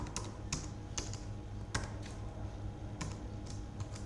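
Clicky bursts of typing on a computer keyboard as city names are entered, the taps quick and uneven with a few louder key strikes standing out. The sound is close but quiet, and no one speaks.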